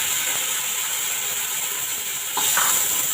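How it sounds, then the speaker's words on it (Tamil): Onion and tomato frying in a pan for sambar, a steady loud close hiss of sizzling oil with a brief scrape or stir near the end. "நல்லா ஃப்ரை பண்ணிக்கோங்க"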